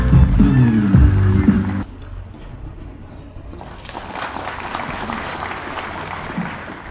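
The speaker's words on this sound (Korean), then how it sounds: "여러분 따뜻한 박수로 환영해 주시기 바랍니다." Applause from the audience at a commemoration of the 100th anniversary of the Confucian scholars' Paris Letter independence movement, welcoming former National Assembly Speaker Chung Sye-kyun to the podium. A voice over a low hum comes first, then a dense, steady clapping that swells and holds.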